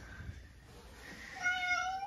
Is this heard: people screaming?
no